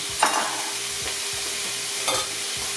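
Smoked brisket ragu ingredients are stirred in a hot pan, giving a steady close sizzle with a couple of soft spatula scrapes over nearly three seconds.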